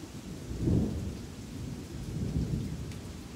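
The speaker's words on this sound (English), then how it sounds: "Now the rain's picking up, so things are gonna get louder." Steady heavy rain hisses throughout while low thunder rumbles swell twice, once early and again near the end.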